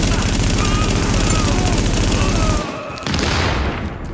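Rapid automatic gunfire in The Division crackles in a dense, loud burst of shots for over two seconds, then cuts out. A shorter burst follows amid game noise.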